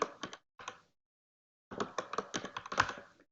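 Keys clack on a computer keyboard as an IP address is typed, first a short burst of taps, then a pause, then a quicker run of close, crisp keystrokes.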